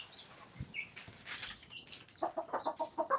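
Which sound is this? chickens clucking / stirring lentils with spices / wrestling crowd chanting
chickens clucking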